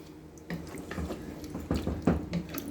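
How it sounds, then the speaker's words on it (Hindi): About two cups of water are poured into a pot of turnip and chicken curry (shaljam gosht), giving a steady, close splashing wash with a few louder surges near the end and no talk. "अब इस वक्त मैं इसमें पानी ऐड कर दूँगी।"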